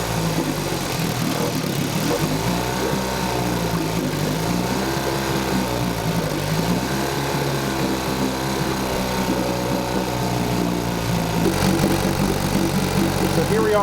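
A 1952 Johnson outboard engine runs steadily after a hard start, a buzzy mechanical drone with rising and falling revs, close and fairly loud with no talk over it.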